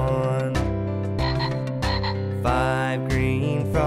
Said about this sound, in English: Five green frogs sitting on a log take turns as they jump into the pond.